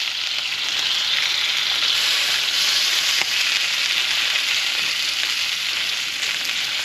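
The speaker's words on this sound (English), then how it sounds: "We're gonna go ahead and give these a flip, see what they look like." Pieces of lamb sizzle loudly and evenly in a hot pan as they are flipped, a bright constant hiss with one brief tap of the utensil partway through and no talk.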